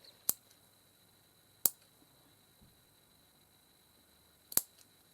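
Three sharp, isolated scissor snips cutting off a piece of fabric while making an appliqué for a small purse, spaced apart with quiet in between.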